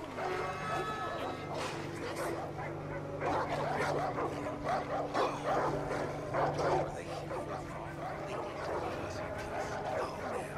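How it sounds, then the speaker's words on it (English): A pack of dogs barking and yipping in Far Cry 5 gameplay, repeated overlapping barks and whimpers spread across the clip, some near and some farther off, mixed with a low steady game ambience and faint voices. "there's heaps of dogs barking"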